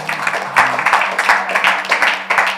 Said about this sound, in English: If you agree or not, let's clap them up